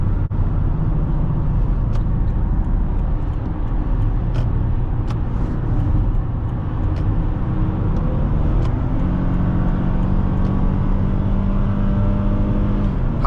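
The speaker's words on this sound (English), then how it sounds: "see how quick it accelerates." A 2011 Lexus RX350 accelerates hard up to 80, heard from inside the cabin as a steady, loud engine and road roar that holds constant for several seconds, with a few faint clicks over it.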